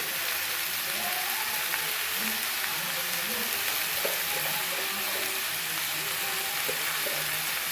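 Mixed vegetables, including bottle gourd stems, fry with turmeric in a pan. A continuous close sizzle and crackle carries occasional stirring sounds, with a faint voice underneath.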